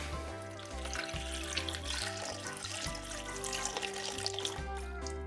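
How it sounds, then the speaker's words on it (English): Water runs and splashes steadily over bare car body metal as acid is rinsed off, a close continuous trickle and spatter. "And then just give it some water."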